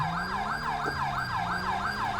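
A GTA V LSPDFR ambulance siren blares close and loud in fast repeating yelp cycles, several per second, over a steady low engine hum, with no voices.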